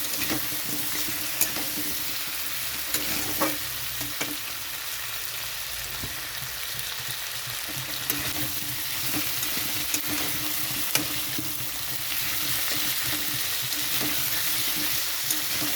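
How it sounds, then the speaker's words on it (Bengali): Potatoes and ginger fry in a pan with a steady, dense crackling sizzle, punctuated by regular scrapes and taps of stirring, close and even throughout with no speech. "আলু ভাজার সঙ্গে আদাটাও কষা হয়ে যাবে,"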